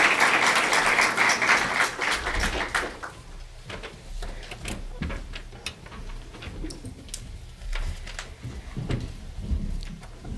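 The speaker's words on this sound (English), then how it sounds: "if you would all join me again in giving a round of applause" Applause from an audience at a panel discussion, loud at first and then thinning into scattered claps that continue at a lower level to the end.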